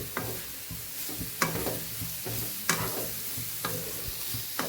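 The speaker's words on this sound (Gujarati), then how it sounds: "હવે ફાસ્ટ ગેસ કરીને આપણે એને 5 મિનિટ આપણે શેકી લેશું." Grated carrots sauté in a pan over high heat as kheer is prepared, giving a steady sizzle broken by a few sharp scraping strokes of the spoon at irregular intervals, close and moderately loud with no talking.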